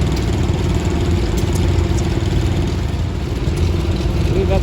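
A Farmall 560 tractor drives past at an antique farm machinery gathering, its engine a steady, close, low rumble with no break.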